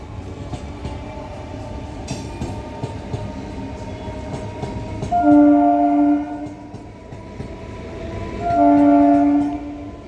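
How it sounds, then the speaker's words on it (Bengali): A train rolls past some distance away in a quiet setting, a low steady rumble running throughout with two long, loud horn blasts, one near the middle and another toward the end. "একটা কিন্তু ট্রেন যাচ্ছে কিন্তু কোথা দিয়ে যাচ্ছে বা কতটা দূরে যাচ্ছে সেটাই শুধু দেখা যাচ্ছে না"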